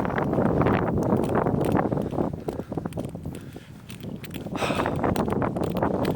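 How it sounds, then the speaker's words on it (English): Gusty wind on Millhal Road in Stirling, Scotland, roars and buffets the microphone, a loud low rumble that surges, dips briefly and swells again. "The wind is blowing"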